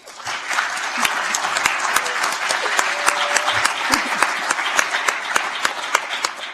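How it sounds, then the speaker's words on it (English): Sustained applause from an audience at the ISTF 2017 closing ceremony as the treasurer stands, a dense steady clapping with a few sharper individual claps standing out over several seconds. "if we can give them a round of applause"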